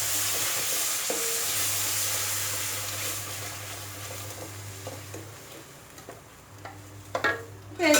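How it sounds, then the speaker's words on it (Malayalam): Carrot and tomato paste sizzles in a pan, with steady frying hiss and intermittent scraping stirs and spoon taps growing busier toward the end, close and moderately quiet. "ഞാൻ ക്യാരറ്റും തക്കാളിയും കൂടി അരച്ചത് ഇതിലേക്ക് അങ്ങോട്ട് ചേർക്കുകയാണ്"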